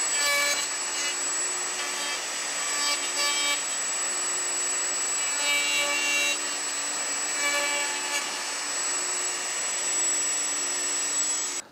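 A router cuts a scribing pass in wood on a UJK universal dovetail jig with a universal router base, a loud steady high whine with bursts of harsher cutting noise as the bit bites, alongside a dust extractor's constant drone.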